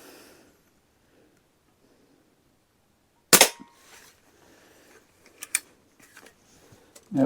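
A Crosman 140 .22 pellet rifle, pumped five times, fires one sharp loud crack after quiet, followed by small mechanical clicks and handling sounds.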